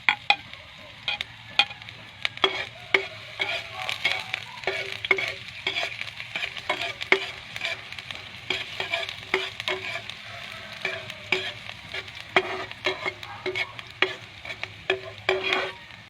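Onions frying in hot oil in a pan, a steady soft sizzle broken by frequent sharp clicks and scrapes of a utensil stirring, close up with no talking.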